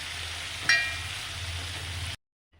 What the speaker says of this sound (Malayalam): അങ്ങനെ നമ്മൾ ഇറച്ചി വറുത്ത വറുത്തെടുത്തു